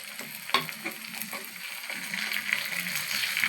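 Fish coated in turmeric, chili, salt and cumin with a splash of water fries in a pan, a close, continuous crackling sizzle with small spitting pops throughout.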